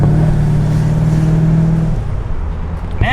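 A Porsche GT3 RS fitted with a MagnaFlow exhaust revs hard and accelerates close by, its engine note droning loud and steady before easing off and shifting, with a sharp burst near the end.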